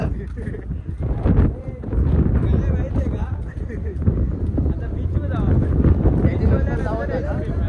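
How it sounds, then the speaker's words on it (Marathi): Strong wind buffets the microphone on a beach in Goa, a rumbling, gusty roar that runs throughout while people talk. "वाटते हवा पण जाम सुटले"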